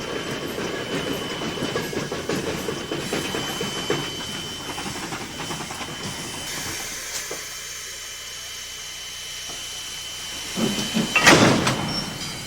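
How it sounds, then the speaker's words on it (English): A Climax locomotive runs on rails with a steady mechanical rumble and rhythmic clatter, then a louder, brighter surge of noise near the end. "To the uninitiated, the Climax is a strange-looking contraption, almost like a cartoon locomotive."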